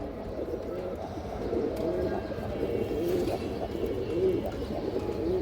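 A pigeon with black lacing and clear pearl eyes gives repeated low coos close by, steady and soft against a continuous rustling background, with no clear talk.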